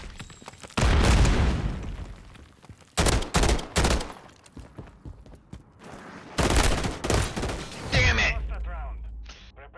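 Loud bursts of automatic gunfire in a Call of Duty: Modern Warfare III multiplayer gunfight, several separate volleys with short gaps between them, ending in a ringing tail.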